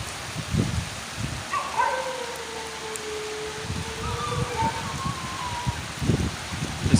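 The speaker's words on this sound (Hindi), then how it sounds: "माशाल्लाह कराची में सर्दी की पहली तूफानी बारिश।" Stormy first winter rain in Karachi patters faintly and steadily beneath occasional low thumps, while a drawn-out whining animal call and a few brief barks rise over it nearby.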